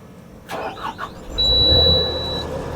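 The engine of an XCMG XGS40K boom lift is started: a few cranking chugs, then the engine catches and settles into a steady, loud idle with a high whine running over it for a moment.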